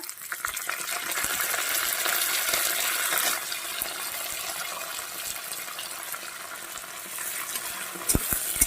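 Chopped onion and curry leaves fry in hot oil in a pan, a loud, continuous sizzle with frequent spatula scrapes and clicks, and a few sharper knocks near the end.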